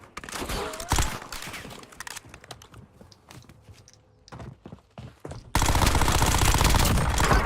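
Bursts of automatic gunfire in a tactical shooter game, loud rapid volleys at the start, scattered thumps through a quieter middle stretch, then a sustained dense barrage of firing at the end.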